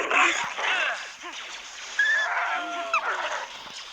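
Several dogs growl, whimper and bark in the video game Knights of the Old Republic, a continuous, fairly loud tangle of animal noises with a few brief thuds.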